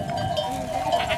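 Goats bleating outdoors by the sea in Spain, a short, fairly loud, close bleat with no talk over it.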